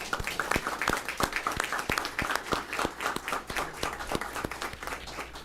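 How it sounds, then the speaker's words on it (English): Scattered audience clapping at a school district board meeting, individual claps clearly distinct in an uneven rhythm, moderately quiet and steady throughout. "I think that deserves a round of applause."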